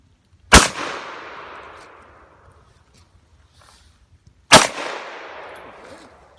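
Two loud, close firearm shots at an outdoor shooting range, about four seconds apart, each a sharp crack followed by a long fading echo, with no talk in between.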